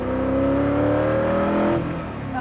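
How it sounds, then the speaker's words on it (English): Koenigsegg CCXR Edition sports car engine running loud and close while driving, a steady droning roar with rising harmonic tones that hold for nearly two seconds before easing off slightly. "I am driving the Koenigsegg CCXR Edition"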